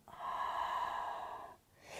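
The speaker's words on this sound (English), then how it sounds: "breathing out" A long, steady exhale during a yoga flow, one continuous airy breath that carries for over a second before trailing off, close and fairly quiet, with no talking.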